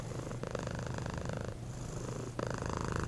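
A kitten purrs steadily and close up, a continuous rumbling purr with two brief breaths or pauses, alone without any talking.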